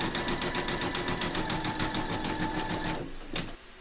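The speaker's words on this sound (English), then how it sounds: "You're now going to pop your hoop into your machine and stitch round number 4, and that's going to zigzag this edge." An embroidery machine stitches a zigzag edge around an in-the-hoop cuddly penguin, its needle pounding out a fast, regular, loud rhythm for three seconds before it slows and stops.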